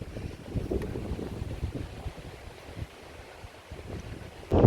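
Strong wind in a gorge buffets the microphone in a steady, rumbling roar with gusts rising and falling, ending in a louder blast.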